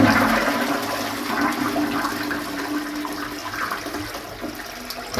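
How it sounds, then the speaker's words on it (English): A toilet is flushed before a blocked drain is dug up, giving a steady rushing gush of water that fills the whole stretch, loud and close with no voices. "We'll give her a quick flush first."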